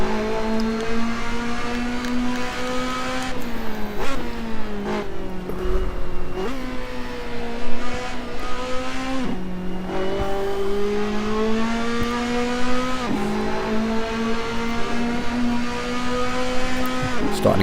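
A race car lapping a track in the sim racing game Assetto Corsa, its engine droning loud and continuous while revs rise and drop through gear changes and corners, with someone talking over it.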